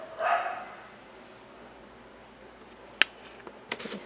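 A dog outdoors gives a single short bark at the start, followed by quiet with a few sharp clicks or taps.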